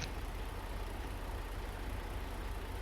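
A heavy hauler truck's engine idles in a steady, low rumble throughout, moderately distant and unbroken, with no voices.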